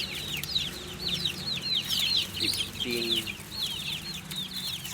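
Black Australorp chickens clucking inside a coop, with a busy stream of overlapping clucks and chirps from several birds close by. Someone talks over them.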